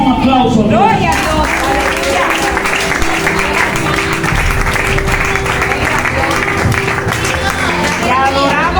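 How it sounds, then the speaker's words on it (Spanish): A church congregation breaks into applause during a Spanish-language service, loud steady clapping mixed with crowd voices and a sustained musical tone underneath. "Den un aplauso"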